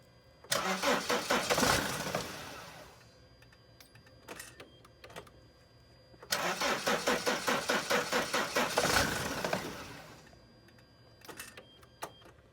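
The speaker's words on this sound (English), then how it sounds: "Just as soon as you start it, it stalls the van." A Sprinter van engine with a faulty mass airflow sensor cranks and catches twice, each start running briefly with a rough, pulsing rhythm before stalling out, with short ticks and clicks in the quiet gaps between attempts.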